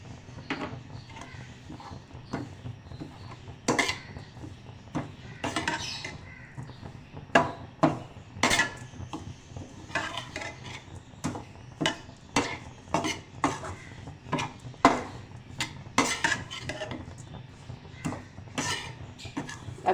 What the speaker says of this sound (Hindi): अभी हम इसकी घी के साथ भुनाई कर रहे हैं